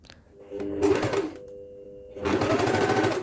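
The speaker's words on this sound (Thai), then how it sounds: "ตอนเย็บเราก็ย้ำก่อนนะคะ" Sewing machine stitching a dart on a skirt or sarong, two bursts of rapid mechanical whirring separated by a short pause, close and clear with no talk.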